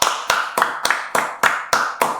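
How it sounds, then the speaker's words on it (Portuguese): Podcast guest being welcomed with applause, heard as eight loud, evenly spaced single claps close to the microphone, each sharp hit followed by a short decay. "Eu queria uma salva de palmas para ele"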